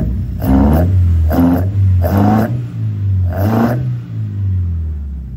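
A Toyota 7AFE engine fitted with individual throttle bodies and a Haltech 750 idles with a low rumble and snaps through four sharp, loud revs in quick succession, each rising and dropping back.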